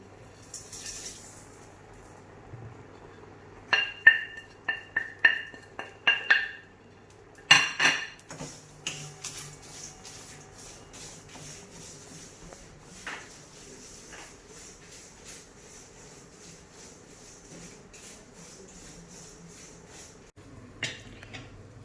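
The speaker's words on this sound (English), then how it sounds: "There's no oil in this. We're just going to dry roast this." Seeds dry roasting in a pan with no oil, heard as metallic clinks and scraping of a utensil against the pan in short bursts, then a quiet, faint rustle.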